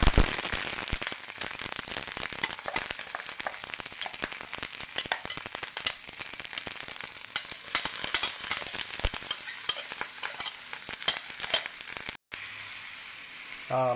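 Curry leaves hit hot oil with popped mustard seeds, setting off a loud, dense crackling sizzle with rapid spitting bursts that keeps going almost without pause before a brief cut.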